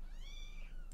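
A kitten in The Sims 4 lets out a single clear, high meow with a rising then falling pitch, close and alone over a quiet game background.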